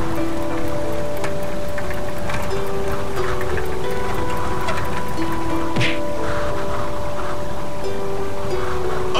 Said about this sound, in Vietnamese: Sao càng ngày mưa càng to thế này?